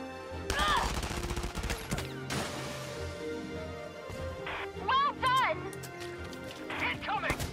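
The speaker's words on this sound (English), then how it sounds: "Shot fired. Find some cover." Gunfire in the video game Valkyria Chronicles 4: sharp bursts of shots crackle over a dense battle soundscape, mixed with in-game voices and other game noise.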